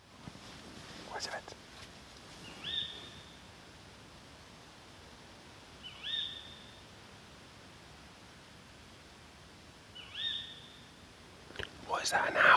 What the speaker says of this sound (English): What is that, an owl?